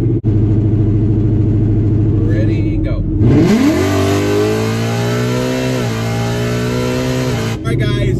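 Boosted VMP-supercharged car with loud engine pulling hard from a roll at about 60, revs climbing steadily close up, with a brief shift-like dip near the start and voices briefly around it.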